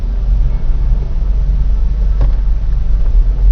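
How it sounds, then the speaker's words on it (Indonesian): A motorcycle exhaust, noted as annoyingly loud, drones as a steady low rumble with traffic nearby, holding even and close without a break. "Nah ini kan suara knalpotnya yang cukup annoying sebenarnya kan,"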